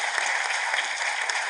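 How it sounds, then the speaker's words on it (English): An audience applauds the panelists at the Afreximbank Annual Meetings, a brief, even burst of clapping that holds steady from start to finish. "A round of applause to my panelists."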